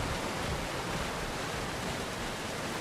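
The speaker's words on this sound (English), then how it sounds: "What a nice water, or rather blood fall" A waterfall of blood in the video game Tyranny, a steady, loud, broadband rushing wash of falling liquid that holds unchanged throughout.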